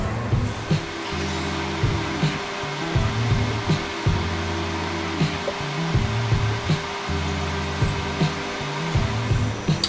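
A hot air tool blows on a wooden tabletop spinning-top fir tree, roaring steadily with repeated rising and falling surges as it is worked over the piece, loud and close with no talking.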